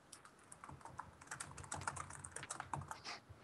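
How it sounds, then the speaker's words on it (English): Rapid, dense typing on computer keyboards during an online Town of Salem game, a continuous clatter of close keystrokes without speech. "All this typing, you guys are going crazy."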